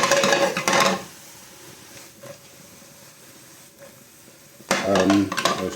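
Mushrooms and garlic sizzle in a pan for a bacon and mushroom baguette, a soft steady frying hiss between louder bursts of stirring and pan clatter at the start and end.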